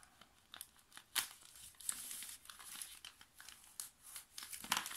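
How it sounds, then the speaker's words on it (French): Close crinkling and ripping of adhesive tape being cut, a series of short sharp bursts with quieter rustling in between. "on coupe le scotch"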